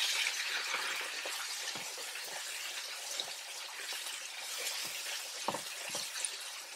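Three large tomatoes get stirred into golden fried onions in a hot pan, making a steady oily sizzle broken by soft, irregular scraping knocks of the spoon against the pan.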